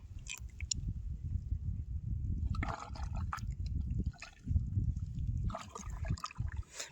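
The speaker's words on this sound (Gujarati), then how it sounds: "પાણી હવે ભરાવાની થોડીક જ વાર છે પાણી આવવા માંડ્યું" Low, churning gurgle of tidal water flowing into a creek close by, with occasional drips and splashy bursts, continuous and without talk.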